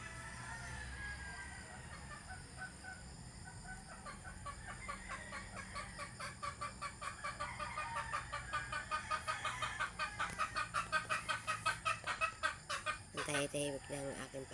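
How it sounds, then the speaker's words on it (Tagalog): Roosters and chickens in the early morning around 6 a.m., with rhythmic clucking that grows louder and more insistent over time and a crow near the end, in a quiet rural setting. "Nagtitilaokan pa nga yung mga manok."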